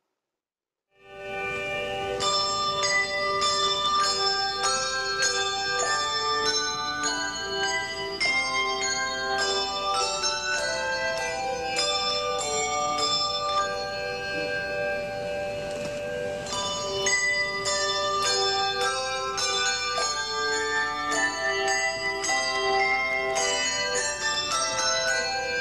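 A handbell choir on a set of Whitechapel handbells plays "Lo, How a Rose E'er Blooming" at a 1994 concert, with ringing overlapping chords that start after a brief silence and sustain steadily at even volume throughout.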